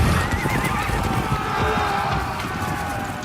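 Horses neighing amid a cavalry charge on a muddy, slippery battlefield in a Game of Thrones battle scene, loud whinnies over a dense rumble of galloping hooves and crowd noise.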